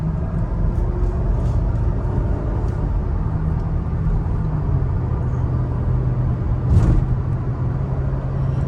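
Steady low road rumble from a 2003 Mercedes SL500 riding on Neomax coilovers, heard from inside as it rolls over bumps, with a brief louder thump near the end and no talking.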